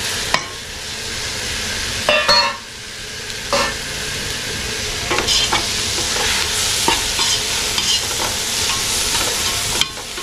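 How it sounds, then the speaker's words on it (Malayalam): Tomatoes tossed into a frying fish head curry made with a large trevally head, stirred with a spoon: steady loud sizzling and bubbling broken by scraping, clattering stirs against the pan. "ഇപ്പോൾ ബാക്കി ടൊമാറ്റോ ഇട്ട് കൊടുക്കാം."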